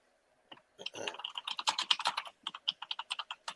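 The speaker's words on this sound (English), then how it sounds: "There goes that typing again." Fast typing on a computer keyboard, a dense run of crisp key clicks with brief pauses, close and fairly quiet with no talk over it.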